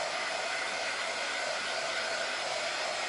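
A hair dryer blows steadily on freshly applied Folk Art Vintage White paint, a loud, even whooshing hum that never changes and has no talk over it.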